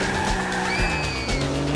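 A car in GTA 4 drives and skids, its engine roaring steadily while tires squeal in rising and falling tones.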